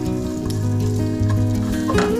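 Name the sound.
onions frying in a pan for borscht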